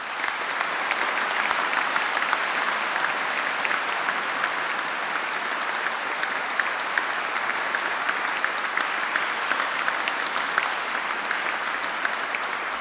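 A large graduation audience in a hall at Edinburgh Napier claps loudly and steadily, a dense, sustained wash of applause with no break throughout.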